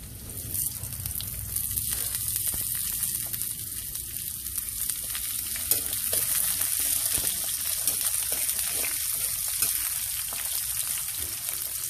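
Chayote frying in a pan for pancit canton, a steady, even sizzle that holds at a moderate level throughout, with occasional soft stirring and no voices.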